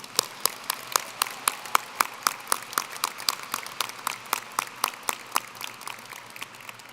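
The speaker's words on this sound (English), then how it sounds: "Students and families, please give them a warm round of applause." Graduation audience at a 2022 Doherty High School ceremony applauding staff and faculty, a thin, sparse clapping of distinct individual claps in an uneven rhythm, fairly close and fading slightly toward the end.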